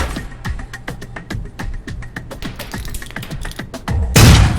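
In the video game Alpha Protocol, a grenade is tossed through a window. A quick series of rhythmic thumping taps is cut off by a loud, roaring explosion in the final half-second.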